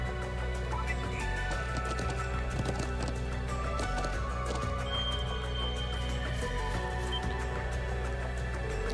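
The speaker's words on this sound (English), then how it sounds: "I'm just riding a horse across the highlands." Horse hooves galloping across highlands in the video game Trails of Cold Steel II, a steady clip-clop rhythm with an occasional whinny, sitting under continuous game music at an even level.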